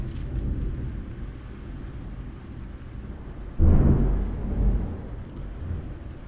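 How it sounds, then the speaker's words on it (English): A single rumble of thunder rolls in on a stormy night, building suddenly partway through over a steady background of rain and wind, deep and booming before easing off. "that thunder's got something to say for itself"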